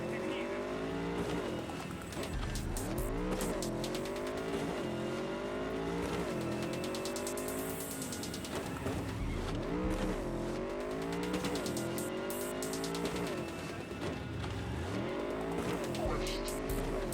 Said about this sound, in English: I'm just trying to chase down a car